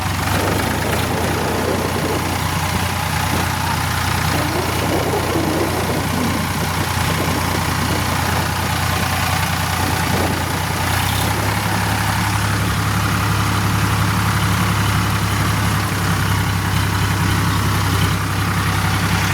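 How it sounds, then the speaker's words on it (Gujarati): A tractor's heavy diesel engine chugs steadily and loudly up close on a farm track, its low rumble shifting slightly in pitch partway through. "જો મિત્રો આપણે ટ્રેક્ટર લઈને હવે જઈએ છીએ આપણા ખેતરમાં."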